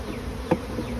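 Honeybees from a swarm hum steadily around an opened hive, a continuous close buzz with a brief louder bump midway.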